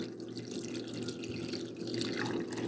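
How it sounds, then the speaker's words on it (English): Water pours steadily from a tap into a pot holding smoked fish skin, fins and bones, a continuous close splashing rush with no talk. "So let's take all of this, put it in a pot, cover it with some water."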